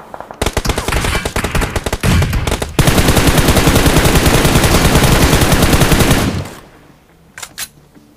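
Rapid automatic gunfire from the battle-royale game BGMI, dense sustained bursts with short gaps, then a continuous loud spray lasting several seconds before cutting off, followed by a few faint distant shots.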